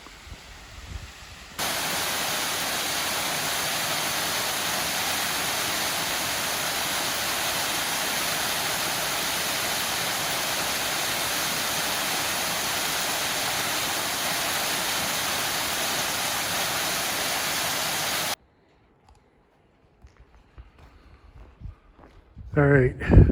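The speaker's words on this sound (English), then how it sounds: "Let's take another look at this waterfall." A loud, steady rush of falling water roars without pause, then cuts off abruptly, followed by quiet scuffs and faint movement.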